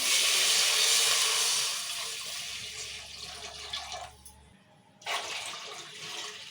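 Water poured from a cup onto washed, soaked old basmati rice for chicken biryani: a close, loud, steady splashing pour that tapers off, a brief pause, then a second pour, with no talking.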